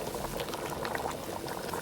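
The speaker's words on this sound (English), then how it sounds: "let's see how our pot of boiling soup is doing" A pot of Nigerian Rivers native soup bubbles at a steady boil, with dense, close gurgling and popping throughout and no talking.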